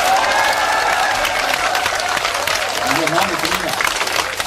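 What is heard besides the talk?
audience applause at political speech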